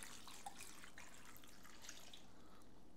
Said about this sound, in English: We're gonna pour this on top of everything here.